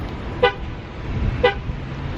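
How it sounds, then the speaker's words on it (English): A Chevrolet Tahoe rental's horn gives two short, sharp toots about a second apart when its key fob locator button is held. Quiet ambient noise of a large parking area runs underneath. "a few toots for you to help you find your vehicle"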